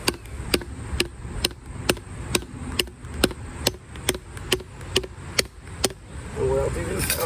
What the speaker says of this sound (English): we're just going to start hammering